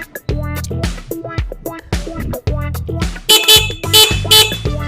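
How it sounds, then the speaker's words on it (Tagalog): The replaced horn on an NXT Storm X vehicle blares in a series of loud, close honks, each a sustained bright tone with short gaps between them. "Napalitan na namin ng busina to"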